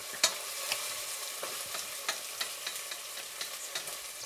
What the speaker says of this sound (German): Peperoni reinmachen, auch ein bisschen andämpfen